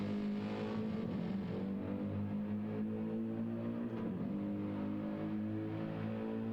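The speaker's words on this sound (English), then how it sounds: "Shane's followed by Ricky Baldy in the 45 McLaren, just coming into the pits." McLaren GT race car number 45 in a Le Mans 24 Hours endurance racing video game, its engine holding a steady close droning tone while entering the pits, alone without talk.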